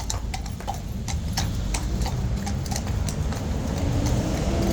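Hooves of a horse in a video game clip-clop in a steady, fairly loud walking rhythm over a constant low background rumble, with no voices.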